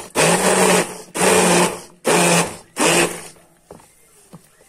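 A kitchen blender pulses food in four loud, evenly spaced bursts of about half a second each, followed by faint clatter and near silence.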